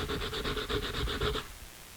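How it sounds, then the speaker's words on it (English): An edge piece of a cheap dollar store puzzle cube is sanded by hand, about a dozen quick, even rasping strokes close up, then stopping, with no talk. "you just take an edge piece and start sanding it down"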